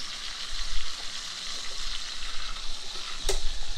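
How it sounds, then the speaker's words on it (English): Ribeye steak searing in a hot pan, a steady close sizzle with a brief clatter near the end. "Holding your meat so you can sear it all the way around."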